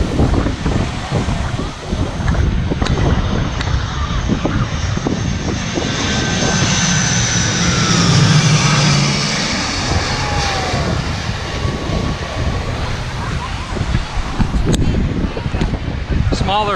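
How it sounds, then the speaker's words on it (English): An ATR 42 turboprop airliner passes overhead near the shore on Sint Maarten, its loud engine drone building and sweeping past for several seconds over wind buffeting and surf. "Looks like a turboprop. Can't tell if it's a dash or an ATR."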